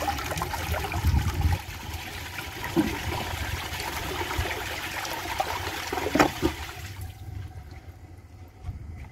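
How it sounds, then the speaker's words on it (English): A 2000 Crane Metro toilet fitted with a faster filling valve and a generic white handle flushes with a loud rush of water. The rush settles into a trickling refill and then goes quiet after about seven seconds. "So let's give it a flush and do some tests."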